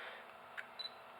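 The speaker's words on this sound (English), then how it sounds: "Oh, it's a nice shutter sound." A Fujifilm X-T1 mirrorless camera in single-shot mode fires its shutter indoors, giving a short mechanical click followed moments later by a second quick double-click, crisp and close with no talking.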